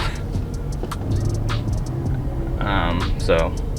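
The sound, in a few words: TDI Jetta engine revving, accelerating on its own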